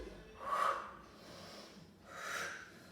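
Two deliberate breaths during a chair workout doing core and glute exercises, each a soft airy rush rising and fading about two seconds apart, close and fairly quiet with no talking.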